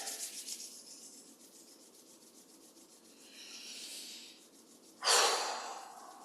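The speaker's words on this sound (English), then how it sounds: "Notice how your palms feel as you rub them together." Palms rubbing together during a Qigong self-massage, a soft, close, rhythmic rasping swish that repeats, then pauses and returns as a louder brief rub amid quiet breathing.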